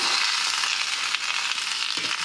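Potatoes frying in a pan tempered with cumin seeds, with bottle gourd added, give a steady close sizzle throughout, with a brief burst of crackle near the end.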